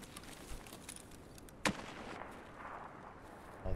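Sniper scav gunfire in Escape From Tarkov: a single sharp, fairly distant rifle crack stands out against quiet ambient noise, with fainter pops around it.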